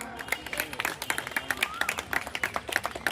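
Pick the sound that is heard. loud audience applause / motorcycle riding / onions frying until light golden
loud audience applause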